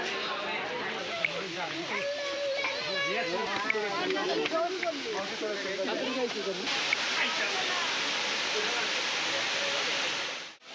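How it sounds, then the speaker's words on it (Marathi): A steady, broad roar of a very tall waterfall near Karla, Lonavala fills the scene, with someone talking over it for the first half before the rush continues alone. "तुम्ही समोर धबधबा बघू शकतात खूप उंच आहे असं खाली पाणी पडतं"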